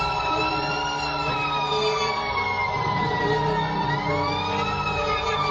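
A fire truck siren wails continuously, its pitch slowly rising and falling, loud and close over a low rumble of traffic.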